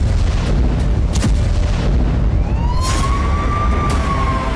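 Artillery shelling in the Ukraine war makes heavy, continuous rumbling with sharp booms, and a long rising whistle-like tone cuts through near the end.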